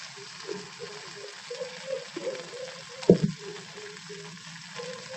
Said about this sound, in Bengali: ফুলকপিটা লাল লাল করে আমি ভেজে নিচ্ছি।